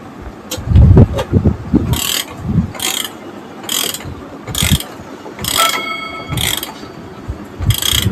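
A vintage 31-day clock mechanism ticks with sharp, regular mechanical clicks about once a second, close and loud, over low thumps and handling noise.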